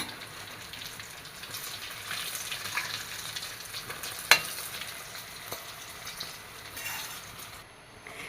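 Beetroot potato cutlets fry gently in a pan, giving a soft, continuous sizzle with faint crackles, and a sharp clack near the middle as one is flipped, followed by a lighter scrape.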